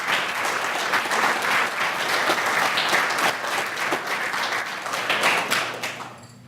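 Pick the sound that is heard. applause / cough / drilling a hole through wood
applause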